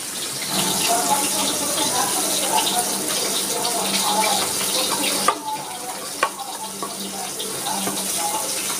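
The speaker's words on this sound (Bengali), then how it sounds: "আমার তেলটা গরম হয়ে গেছে। আমি এইভাবে তেলের মধ্যে ছেড়ে দিলাম।" Shrimp chop wrapped in bottle gourd leaf lowered into hot oil, giving a steady broad sizzle with a bubbling hiss that runs throughout, close and fairly loud, with a couple of small knocks near the end.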